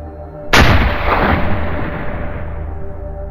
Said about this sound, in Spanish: de tan solo un disparo